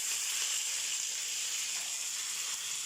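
Small onions, or shallots, sauté in hot oil with curry leaves in a pan for Kerala-style mutton curry, giving a steady, even hiss and sizzle that runs unbroken and alone throughout.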